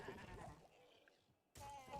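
Goat man enemy bleating in Diablo II Resurrected, a strained animal cry in the opening stretch, a quieter gap, then a loud, dense burst of game sound near the end.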